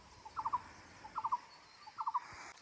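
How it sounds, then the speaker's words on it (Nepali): Doves call in a village, three evenly spaced groups of soft three-note coos, faint and distant over a quiet outdoor background. "त्यो कहाँ चाहिँ ढुकुरहरू कराउँदैछ हौ"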